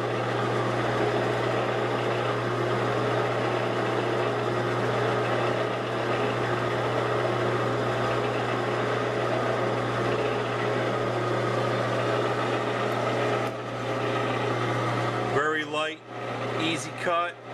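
A Grizzly G0709 metal lathe taking a 0.02-inch cleanup cut with a hand-ground half-inch high-speed steel bit, a steady, loud mechanical drone with a constant low hum that shifts and breaks up near the end.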